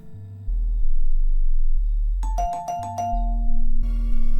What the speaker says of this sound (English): The doorbell again, damn it.